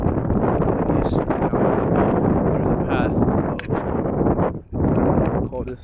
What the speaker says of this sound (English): I know it's a little windy, so if you guys are hearing this, it's probably windy as fuck right now